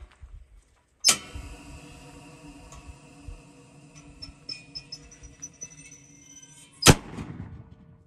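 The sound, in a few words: bird-scaring cannon firing to scare parakeets in passion fruit field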